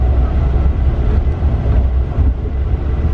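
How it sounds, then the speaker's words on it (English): Rumbling rail noise from a MARC commuter train passing beside a moving Amtrak train, heard from inside a carriage as a loud, steady low roar with rattling texture and no clear speech. "think it's a MARC train next to us"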